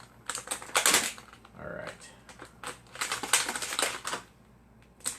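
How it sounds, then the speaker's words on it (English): Scissors snip through rubber bands close by, bursts of crisp clicky cuts in two clusters, with a brief spoken word between them. "Let me cut some rubber bands."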